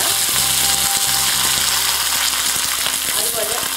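Mustard seeds and curry leaves frying in hot coconut oil for Kerala puli inchi make a loud, steady, close sizzle that hisses without a break.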